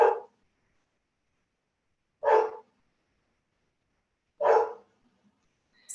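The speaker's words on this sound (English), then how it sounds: "And I apologize for my dog in the background." A dog barks in the background, three single, muffled barks spaced about two seconds apart in an otherwise quiet room.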